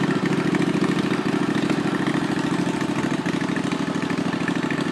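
A Murray riding mower engine idles with no throttle hooked up, a steady, loud, even chugging that runs unbroken throughout with no voices.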